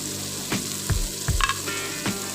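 Bay leaves, lime leaves, lemongrass and galangal sautéing in a pan for beef soto, a close sizzling hiss broken by several low scraping thumps of stirring at irregular intervals.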